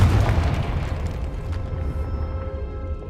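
A Confringo explosive spell blast in Hogwarts Legacy: a heavy boom bursts out at the start, then a rumbling low roar slowly fades under a steady hum.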